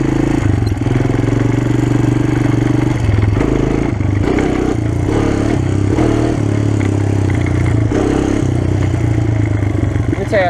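A Honda TRX250X ATV engine drones and revs loudly and close while riding over rough ground, with clattering and shifting throttle throughout and a rider's voice partly under the noise.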